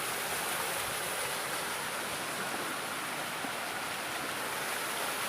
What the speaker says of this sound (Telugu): కాకపోతే చిన్న వాటర్ ఫాల్స్ ఇవి, పైనుంచి వస్తున్నాయి.